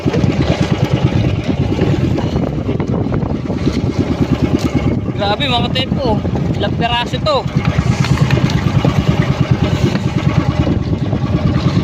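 A fishing boat's motor chugs steadily and close by with a rapid, regular throb, while voices talk over it.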